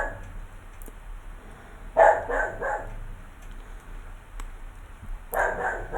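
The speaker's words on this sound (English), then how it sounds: "there goes my puppy dog, barking at probably somebody walking past." A pet puppy barks indoors, two short bursts of yapping barks a few seconds apart, moderately loud against a quiet room.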